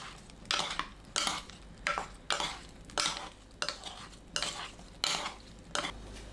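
Cooled sweet potato is tossed by hand with minced garlic, soy sauce and perilla oil, giving a regular series of soft wet squelches and light clinks of a bowl, about one every half second, close and quiet.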